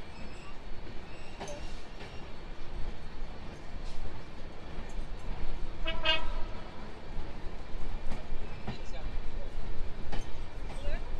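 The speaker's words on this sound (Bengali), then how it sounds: "তো আমরা ডিপার্চার নিচ্ছি ঈশ্বরদী জংশন রেলওয়ে স্টেশন থেকে।" The Kopotakkho Express intercity train pulls out of Ishwardi Junction station, a steady rumbling roll with rail clatter and a brief horn-like tone midway, as someone talks over it.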